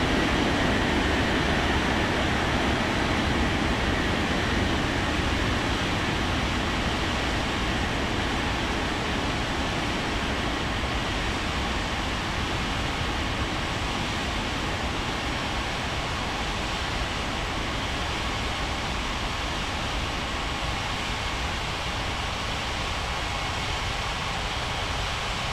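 An airliner takes off from runway 17, heard as a continuous, loud broadband engine roar that holds steady the whole time, with no pauses and no talk.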